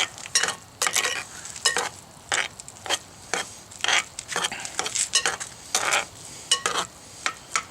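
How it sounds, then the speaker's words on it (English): A spoon scrapes and clinks in a pan of rice as lime zest and cilantro are stirred in, a series of close, sharp scraping strokes in an irregular rhythm with a faint sizzle between them. "We'll give that a quick stir."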